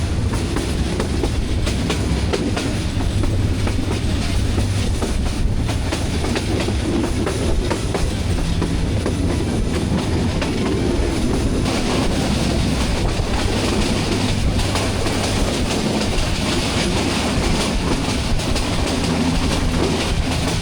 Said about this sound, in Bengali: ট্রেনের দরজার সামনে দাঁড়িয়ে থাকলে এমন বিকট শব্দ কানে আসে